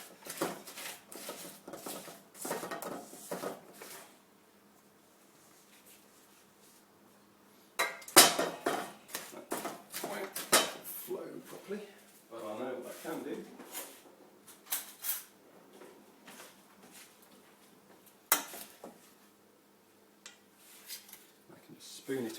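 Metal utensil stirring and crushing ingredients in a pot set over a double boiler, giving intermittent scraping and clinking clatter, with a few louder knocks, at close range.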